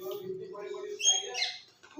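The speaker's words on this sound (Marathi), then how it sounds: "आता तुम्हाला दाखवते पक्ष्यांचा आवाज" A two-month-old pet parrot learning to talk makes short, voice-like squawks and warbling calls, fairly faint and indoors.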